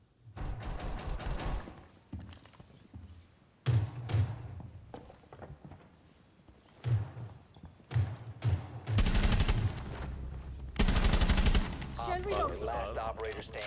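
Gunfire in the tactical shooter Rainbow Six Siege, bursts of rapid automatic shots and single cracks spread through the round, some sharp and close, two long sustained volleys near the end, with quiet gaps between.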